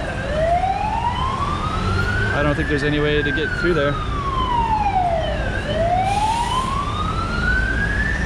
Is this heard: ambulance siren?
yes